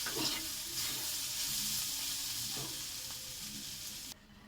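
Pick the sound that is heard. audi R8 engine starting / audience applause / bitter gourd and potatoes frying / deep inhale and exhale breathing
bitter gourd and potatoes frying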